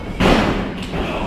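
A heavy thud of a strike lands in a live wrestling match, followed by a second softer impact under crowd noise.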